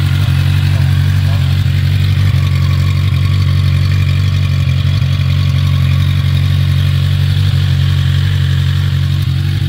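A Suzuki GSX-R sport motorcycle engine idles cold, a loud, steady, low rumble held close without change throughout, with no talking.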